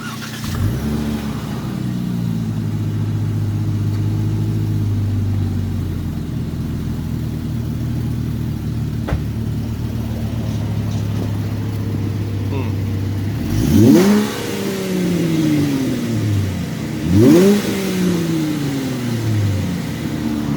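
Dodge Dart with a muffler delete idling loudly in a rev contest, then two sharp rev blips late on that rise and fall back to idle, close and loud; voices talk faintly under the engine.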